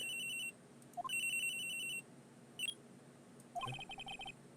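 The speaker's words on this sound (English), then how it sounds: "At around 10:30, I received a call on my cell phone." A cell phone ringing in the Ace Attorney Trilogy video game: a bright electronic ring in two short bursts, then after a brief gap a rising chime leading into a third burst, with faint game background sound.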